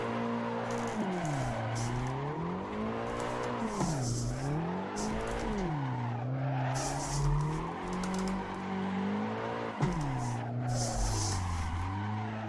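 Drifting car in the racing game Assetto Corsa, its engine revving up and down in repeated swells while tires squeal continuously, loud and close throughout with no talk.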